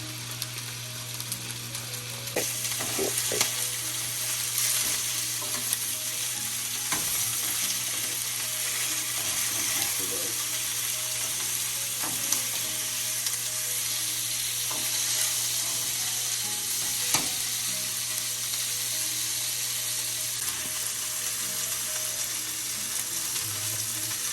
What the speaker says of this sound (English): that shows it's hot enough to sear the pork chops. We're only going to sear on both sides